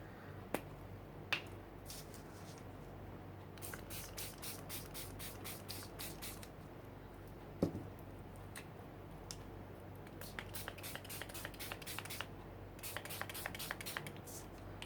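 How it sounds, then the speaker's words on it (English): Short bursts of hissing spray come in quick rhythmic pumps as colored water is sprayed through a stencil, pausing between groups, with occasional faint clicks in a quiet room. "I'm just spraying 2 colors, so there will be more interest."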